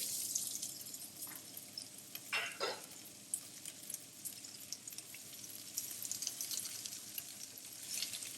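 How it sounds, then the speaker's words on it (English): Courgettes fry in a hot pan with a constant close sizzle, broken by a few louder bursts of spitting and crackling as pieces settle, and no voices. "make sure your pan's nice and hot. And then just pop your courgettes in there."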